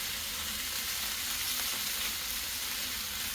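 Garlic and jalapeños sizzle on a Blackstone griddle, a dense, even frying hiss that stays close and constant throughout with no voices.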